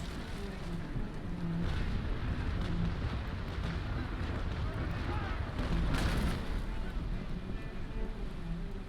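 Broadside cannon fire from a sailing warship in Naval Action: a steady, distant rumble of booming guns rolls on under wind and sea noise, with a stronger swell of blasts near the middle and a voice talking over it.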